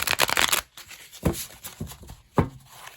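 Tarot cards are shuffled by hand in a rapid riffling burst, followed by a few separate slaps and shuffles that come close and crisp, with no talk.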